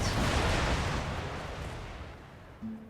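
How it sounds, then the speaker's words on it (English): A cannon salvo in an Empire: Total War siege rolls out as a deep, broad booming rumble that starts loud and slowly fades over a few seconds, with no talk over it. "the cannons, the artillery salvos, so that we're targeting multiple areas of the wall"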